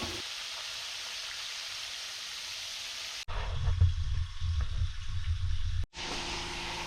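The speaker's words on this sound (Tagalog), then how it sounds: "lakas lang kilamsik ng mantika" Dalagang bukid fish frying in hot oil, a steady hiss of sizzling that thickens into louder crackling and spattering after a short pause, with no talk.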